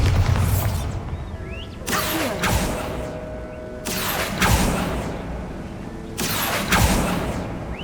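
Bombarda blasting spells in the Hogwarts Legacy video game erupt as three loud, booming explosions at roughly even intervals, each with a broad crackling burst and a fading rumble over a continuous background.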